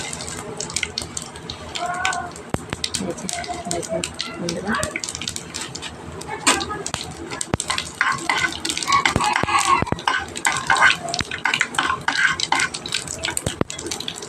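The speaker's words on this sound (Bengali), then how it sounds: "আমার তেলটা গরম হয়ে গেছে তেজপাতা শুকনো লঙ্কা একটু ফোড়ন দিয়ে দিয়েছি" Bay leaf, dried chilli and whole five-spice (panch phoron) crackle and sizzle in hot oil for a mango pickle, a steady hiss with scattered pops and utensil clatter throughout, while a person talks over it.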